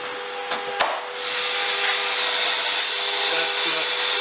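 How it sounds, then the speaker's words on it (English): A shop vacuum runs alongside a CNC router milling wooden climbing holds, a steady broadband roar that swells and holds loud and near after about a second, with a couple of brief knocks at the start. "Vacuum is running as well."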